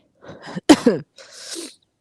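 A sudden, sharp, explosive cough close to the microphone, preceded by a few short breaths and followed by a softer breathy exhale.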